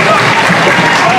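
A wrestling crowd at a live indie show, reacting for Sean Carr in his match against Mr Grim, makes a dense, loud roar of cheering and clapping that carries through the whole short clip.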